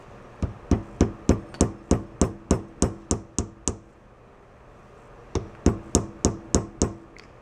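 A hammer strikes metal on the parts of an old Puch sport moped, revived after sitting 22 years, in a quick regular run of about a dozen sharp ringing blows, a pause, then another burst of hits.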